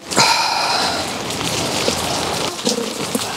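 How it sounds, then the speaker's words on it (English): Heavy rain pours steadily outdoors during work on a British Corvette ZR-1, a dense continuous hiss of drops on surfaces with a few brief sharper tones near the start and end, no voices. "It'd actually be a nice, pleasant job if it wasn't raining"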